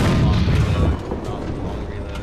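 A 128mm tank gun fires from the Maus in War Thunder, a heavy booming blast at the start that rolls off into a rumbling decay over a couple of seconds.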